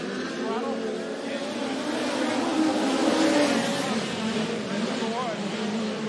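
Race cars circle Jacksonville Speedway, their engines making a continuous mid-distance roar with some rising and falling pitch, while a track announcer talks over it throughout.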